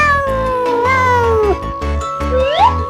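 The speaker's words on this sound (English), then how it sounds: "Cats say meow meow." A cat meows clearly and close, several quick sliding calls in a row, loud and alone.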